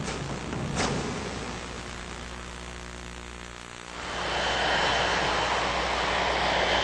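Heavily damaged, overloaded airliner with only two working engines, descending toward Honolulu: a steady loud engine roar and wind rush, with a brief sharp burst near the start and a swelling surge of broadband noise toward the end.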